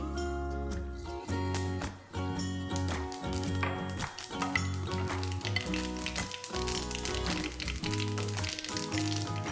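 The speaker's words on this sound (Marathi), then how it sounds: "ह्याच तेलामध्ये आपल्याला थोडेसे तीळ घालायचे, गॅस बंद केल्यावरती" Sesame seeds sizzling in hot oil on a switched-off stove while making zunka vadi, a steady crackling fizz with quick popping ticks, close and fairly soft, over background music.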